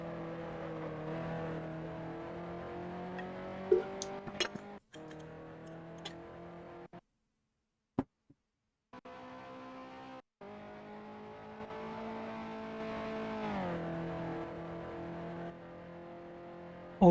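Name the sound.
race car engines revving in Grand Prix Legends video game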